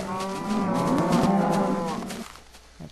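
A cow in the video game Minecraft lets out one long, loud, close moo that rises and falls for about two seconds, then cuts off into quiet with a faint click.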